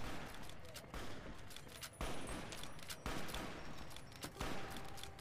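Gunfire bursts from Fallout: New Vegas crackle densely and continuously at moderate level, forming a sustained volley with several sharper cracks over about five seconds.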